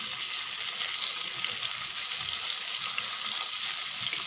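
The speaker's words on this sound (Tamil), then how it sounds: "குழவா வச்சுட்டு மீன் பொரிச்சிடலாம். எண்ணெய் கொஞ்சம் விடுங்க." Fish frying in hot oil with curry leaves in a home kitchen, a steady, even sizzle and crackle that holds at a constant level throughout with no speech.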